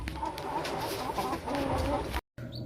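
Newly hatched Brahma chicks, still wet, peep steadily and close up amid continuous barnyard clucking, briefly broken by a cut near the end.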